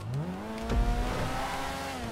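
A Jaguar XJ220 supercar in GTA 5 Online, stated as a twin-turbo six-cylinder, revs loudly with rising engine harmonics, a sharp low thump midway, and a steady close drone throughout with no talking.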